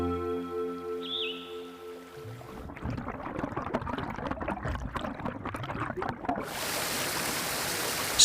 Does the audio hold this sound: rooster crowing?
no